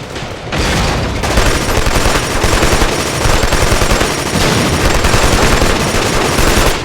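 Continuous automatic gunfire from the first-person shooter video game Killzone 2, a loud, dense rattle of rapid shots with booming impacts lasting throughout, no talking.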